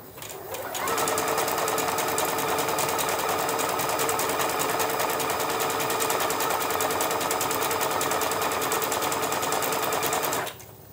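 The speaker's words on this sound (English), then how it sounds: "notice when my needle is swinging to the right hand side, it's going just off of the edge of our black Skyline applique" A sewing machine zigzag-stitches a black skyline appliqué onto a fabric bag, a loud, steady rapid needle chatter and motor hum running close and unbroken for about ten seconds before stopping.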